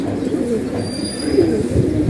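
Close, low cooing from old-line Jabra pigeons hums steadily through a short stretch, a continuous throaty burble with no talking.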